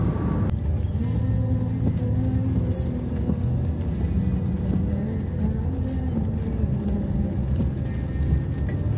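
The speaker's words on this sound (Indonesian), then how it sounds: "Kita tancap gas." A car accelerating on an Indonesian toll road, heard from inside as a steady engine rumble with road and wind noise running continuously, a brief louder swell near the start.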